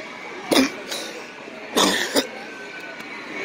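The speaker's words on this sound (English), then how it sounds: "what is this cough?" A person coughs indoors at a model train show, with a couple of sharp, close coughs and throat clearing separated by pauses over a quiet room hum.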